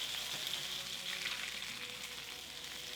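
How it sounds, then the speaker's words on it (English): Beef stock simmering and reducing in a pan for steak au poivre, a faint, steady bubbling sizzle with a soft hiss and no pauses. "So let it simmer until it's about half what you started with."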